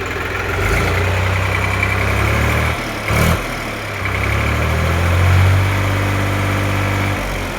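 A New Holland 3600/2 tractor's engine idles loud and close with a deep, steady diesel drone, broken by a couple of brief dips and bursts before settling back into its even throb.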